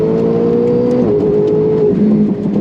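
A tuned Ferrari 488 with about 800 hp accelerates hard with its wheels spinning, a loud close engine roar rising in pitch with a brief shift-like dip near the end.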